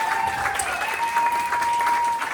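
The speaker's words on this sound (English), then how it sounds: "Round of applause for Gabby, guys." Steady, dense audience applause fills the hall at a talent search semi-final, loud and continuous throughout with a faint tonal hum beneath the clapping.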